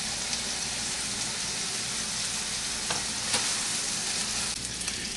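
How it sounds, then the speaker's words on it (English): Finely diced onion fries with sausage in a pan, giving a steady, close crackling sizzle with a few brief sharper pops and scrapes as it browns, and no one speaking. "Let's put that in there because we want that to brown up too"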